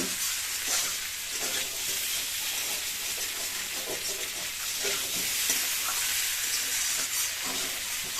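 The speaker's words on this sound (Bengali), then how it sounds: "আমরা এখন আলুটা খুব সুন্দর করে এখানে কষিয়ে নেব বা ভেজে নেব" New potatoes fry in a pan with a dense, continuous sizzle and faint stirring scrapes, close and even throughout, with no voices.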